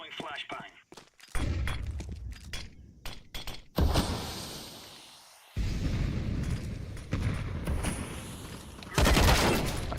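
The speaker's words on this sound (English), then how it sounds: "Throwing flashbang." Flashbang in a tactical shooter video game, heard as a series of sharp bursts and thuds followed by loud sustained blasts, with a player talking at times over the game sound.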